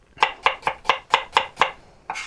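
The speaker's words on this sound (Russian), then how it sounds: "Режем наши яблочки." A knife chops apples on a board in seven evenly spaced, crisp, close strokes, followed by one more after a brief pause.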